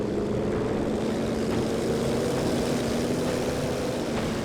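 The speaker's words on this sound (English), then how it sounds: "Could be flak base trying to shoot down those planes." Propeller warplanes drone overhead in the World War II strategy game Company of Heroes 2, a steady, moderately faint engine hum that holds for several seconds with no talk.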